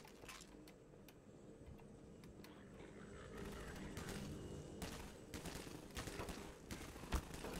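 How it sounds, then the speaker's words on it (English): Scattered bursts of gunfire crackle over a steady background rumble in the video game Half-Life 2: Lost Coast, with sharper shots toward the end. "Where's that gunfire coming from?"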